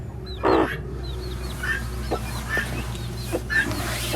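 A white guinea-type hen (beç) with her chicks on a farm, giving soft repeated clucks close by while thin high chick peeps chirp intermittently over a low steady background hum.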